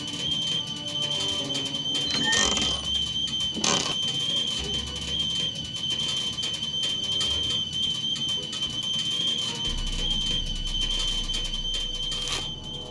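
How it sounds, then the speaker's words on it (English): Kettle whistling as water boils in the Back to the Future video game, a steady thin high whistle holding throughout under game background sounds. "There's the whistle! Surely the water's boiling by now."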